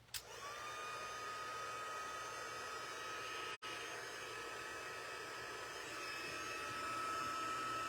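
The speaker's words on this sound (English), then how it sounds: "Just need to plug in my heat tool. And we're going to make some noise." A craft heat tool for embossing preheats, starting with a click and then a steady whirring fan with a high whine that holds for several seconds, briefly cuts out, then resumes, with no talk.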